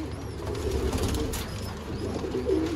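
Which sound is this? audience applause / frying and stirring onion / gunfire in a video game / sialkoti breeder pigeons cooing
sialkoti breeder pigeons cooing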